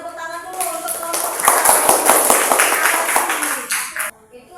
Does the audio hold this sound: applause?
yes